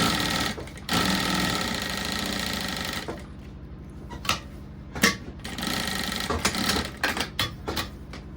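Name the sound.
sewing machine sewing a safety stitch on a fabric case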